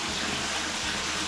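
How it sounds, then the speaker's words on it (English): Water flows from a hose into a tank at an old log cabin, a steady broadband rush that fills the whole moment. "The water actually is coming through here into the tank."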